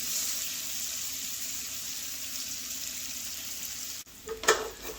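Onions and bacon fry steadily in a pan for Creole green beans, a continuous close sizzle that drops out briefly near the end before a few clattering stirs and scrapes.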